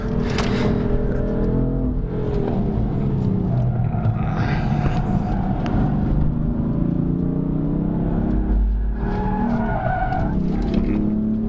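A BMW M4 drifts with its tyres skidding and squealing loudly over a deep engine rumble. The sound holds steady and continuous from close by, with no voices.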